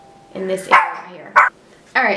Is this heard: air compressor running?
no